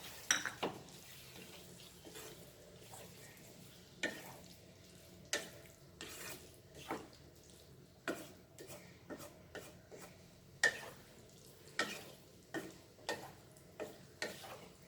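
Tamarind pulp goes into Goan beef masala frying in a pan, giving a soft, quiet sizzle with a spoon scraping and stirring in irregular strokes.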